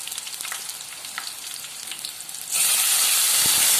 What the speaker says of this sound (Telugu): ఆయిల్ హీట్ ఎక్కాక కట్ చేసి పెట్టుకున్న పచ్చిమిర్చి యాడ్ చేయాలి